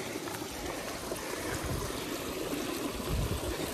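Steady flowing water from a warm sulphur spring at Clabony Sulphur Springs, with a continuous broadband rush and trickle, close by, with no voices.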